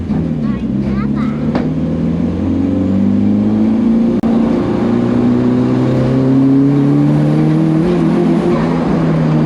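A Volvo race car engine fitted with uprated valve springs revs hard from inside the car, loud and continuous, its pitch climbing steadily over several seconds.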